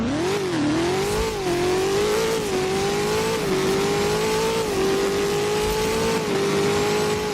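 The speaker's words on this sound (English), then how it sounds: "I would definitely say the Tortar Striker sounds the best." SSC Tuatara Striker engine from the Roblox game Driving Empire, a loud continuous engine drone that rises and dips through repeated revs and gear shifts, steady and close with no talk over it.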